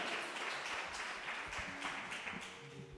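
Faint applause rises from the audience at a huapango music performance, a soft, distant patter of many hands clapping steadily, with a few low tonal sounds underneath.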